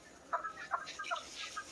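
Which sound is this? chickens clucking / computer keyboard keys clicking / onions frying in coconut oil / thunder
chickens clucking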